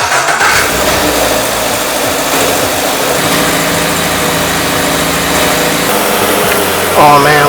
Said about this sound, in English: I'm gonna go ahead and turn on the car,